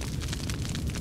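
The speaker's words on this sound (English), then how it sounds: "So you hear the explosions?" Explosions rumble through the video game Conan Exiles during a base burning, a dense continuous roar of blasts and crackling fire that stays loud and unbroken with no distinct pauses and no talking.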